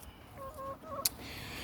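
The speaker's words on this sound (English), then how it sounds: "This is my chicken coop. These are my chickens." Chickens found by the roadside, now in a backyard garden coop, give a few soft, low clucks with a short sharp noise in between, faint and fairly close against quiet outdoor background.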